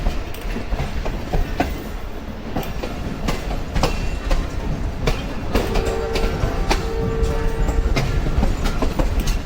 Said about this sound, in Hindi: यहाँ पे हमारी ट्रेन स्टॉप करेगी जो कि ड्यूल स्टॉप है।